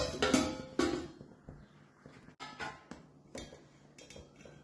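A pot of Goan payasam with sweet potato being covered with its lid for simmering, several metallic clanks and clatters at close range, then softer knocks.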